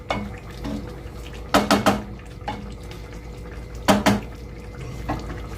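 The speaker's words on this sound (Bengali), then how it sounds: "এবার ভালোভাবে মিশিয়ে নিচ্ছি পুরো রান্নাটাতে" Metal spoon scraping and clanking against a wok while potato and pointed gourd korma is stirred, with two short clusters of sharp clatter over a quiet, low background hum.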